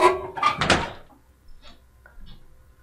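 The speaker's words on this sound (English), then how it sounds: "As if that ghost wouldn't hear the door opening and closing." A door opening and closing in the horror game Yuoni: a loud, close creak and thud at the start, then a few faint knocks and clicks trailing into quiet.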